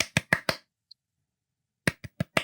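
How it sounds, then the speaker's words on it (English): Sharp, close hand claps from a 1990s TV theme song: four quick claps in an even rhythm, a short pause, then four more claps, each crisp and dry with silence between. "There's also an iconic clapping sequence with 5 claps."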